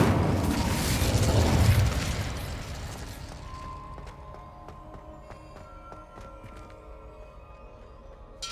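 A fiery burst from the Incendio spell in Hogwarts Legacy, a loud whooshing blast in the first two seconds that fades into a softer crackle and chime-like ringing tones with no talking.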